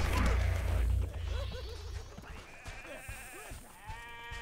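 Sheep bleat in a desert setting in a video game, several short wavering calls after a loud low rumble, fairly close and repeated under faint background noise.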